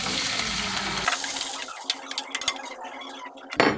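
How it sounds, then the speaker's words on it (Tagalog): A short gush of water pours into a pot of cooking squash, followed by small clinks and splashes of liquid settling against the metal, close and fairly quiet. "Guys, lagyan natin konting tubig"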